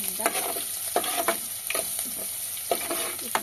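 Garlic frying in a pan over a medium flame, a steady close sizzle with bursts of stirring and scraping at a loose rhythm, no voices.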